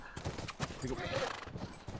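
Hooves clip-clop steadily from a horse in The Last of Us video game, with a whinny rising mid-clip over a busy game soundscape.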